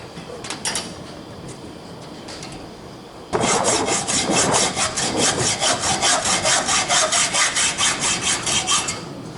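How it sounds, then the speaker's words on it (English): A saw cuts away an old steel A/C line hose in an automotive air-conditioning shop. After a quieter start, a close, loud run of about a dozen steady back-and-forth rasping strokes follows. "First thing you got to do obviously is cut the old hose away."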